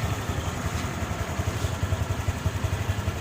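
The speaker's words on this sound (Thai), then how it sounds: "คลิปติดเครื่องนะครับ Honda Kick i 150นะครับ" A Honda Click 150i scooter engine idles after starting, a low rhythmic putter with even pulses and slight mechanical clatter, close and steady with no talk.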